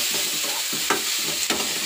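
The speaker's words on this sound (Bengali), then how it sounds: "ভাজা করে নিই উচ্ছেটা।" Sizzling and frying in a pan with short scraping stirs and a couple of sharp clinks, close up, no talking.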